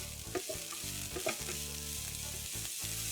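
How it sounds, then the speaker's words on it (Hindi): Onion and capsicum sauté over a high flame for masala pasta, a continuous sizzle with a few stirring scrapes in a pan and no voices. "इन दोनों चीजों को हम 2 मिनट के लिए हाई फ्लेम पर सौटे करेंगे।"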